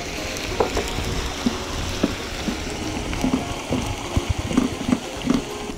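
Ground onion sizzles in a pan as its water cooks off for a parrot fish curry with tomato and coconut milk: a continuous bubbling hiss broken by irregular pops and stirring clatters, close by and steady, with no talking.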